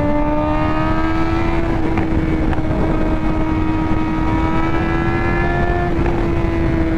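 Suzuki GSX-R600 motorcycle engine fitted with a Heal Tech quickshifter, a loud, steady close-up drone whose pitch rises slowly, with a few faint shift blips and wind rushing across the microphone.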